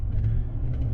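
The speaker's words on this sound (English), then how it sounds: "Rev, rev, rev, catch." A Chevy Silverado pickup's engine revs in a brief, low, throbbing rumble with slight rises in pitch, close and steady, with no one talking.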